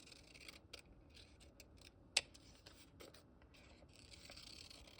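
Scissors cut paper for a junk journal cover in a faint series of snips and rustles, with one sharp, louder snip partway through.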